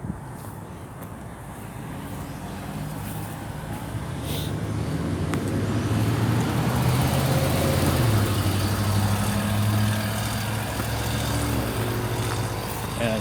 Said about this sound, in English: There's a car parking up there, turning around